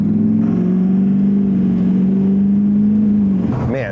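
Chevrolet Duramax diesel truck with a VGT turbo accelerating hard, a loud, steady low engine drone that holds for several seconds before easing off with a brief rising turbo whine at the end.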